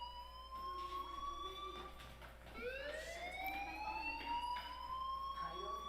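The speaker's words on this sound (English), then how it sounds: "do you hear that fire alarm? That means you should be outside." A fire alarm in the Life is Strange video game wails in repeated rising sweeps, loud and steady, layered over a low background drone.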